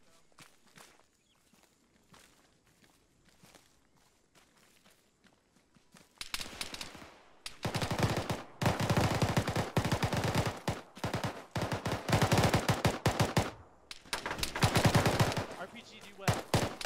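A tactical firefight in the military shooter Arma, quiet footsteps and movement at first, then loud sustained bursts of rifle and machine gun fire crackling in rapid clusters through most of the remainder.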